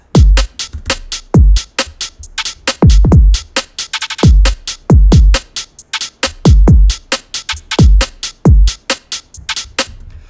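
A punchy UK garage drum loop with a skipping groove, heavy kicks and an added crisp snare repeating in a tight, loud rhythm.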